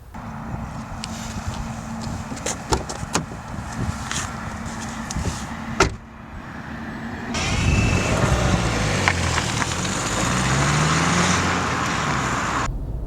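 A Mercedes A180 CDI Blue Efficiency with a 1.5-litre diesel engine driving on the road, first a low steady hum with a few clicks and knocks, then a louder, fuller rush of engine and road noise after a brief dip.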